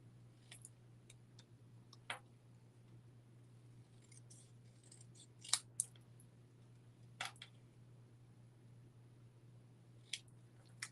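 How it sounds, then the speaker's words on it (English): Scissors trimming a cardstock piece down to a thin white border during a Christmas card-making class, heard as a few faint, scattered snips and clicks over a steady low hum. "So I'm going to trim this one down a little bit more so that it has just a sliver of a white border."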